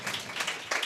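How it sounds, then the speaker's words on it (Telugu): A church congregation claps in a brief, scattered burst of many hands, fairly soft and lasting under a second. "చప్పట్లు కొడదామా?"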